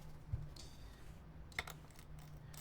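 Typing on a custom-built computer keyboard, with soft scattered key clicks and a couple of sharper taps over a low background hum, all quite faint.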